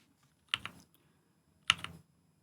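Two separate clusters of key presses on an Attack Shark K86 wireless hot-swappable mechanical keyboard, each a quick run of clacky switch strikes, close and clear over a quiet background.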